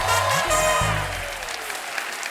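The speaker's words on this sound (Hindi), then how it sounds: "एक बार हमारी टीवी क्वींस के लिए जोरदार तालियां हो जाएं" Studio audience applause at a TV comedy show taping, a broad wash of clapping mixed with music and tonal sweeps that fades toward the end.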